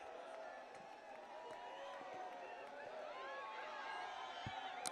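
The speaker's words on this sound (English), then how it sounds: "It is a crowd cheering, I can confirm that." Crowd cheering ambience from a parade in the Planet Coaster 2 video game: a steady, moderately distant wash of many voices with scattered whoops and claps that swells slightly toward the end.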